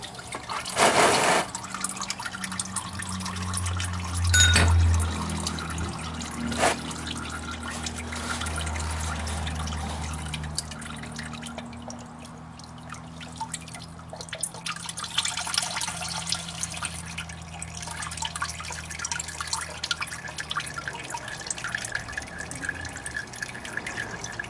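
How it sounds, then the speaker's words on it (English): Oil draining out of an oil filter on a Honda Civic during an oil change, a steady trickling dribble with a few drips, accompanied by low background rumble and occasional knocks. "you see the oil start to drain from the oil filter"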